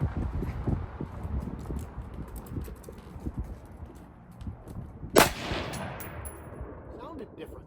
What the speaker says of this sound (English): One more shot, should be the last shot.